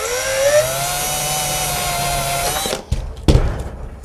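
A power drill whines loudly and steadily as it drives wood screws during a shed-to-chicken-coop conversion, its pitch rising briefly before the motor cuts off, followed by a couple of close thuds and clatter.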